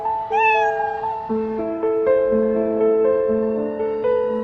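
A kitten meows repeatedly in long, drawn-out, plaintive cries, close and clear with no other sounds.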